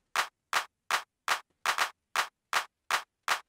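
Looped six-in-sixteen rhythm pattern of short, identical percussive clicks, spaced unevenly into a repeating syncopated cycle, crisp and isolated with no talking.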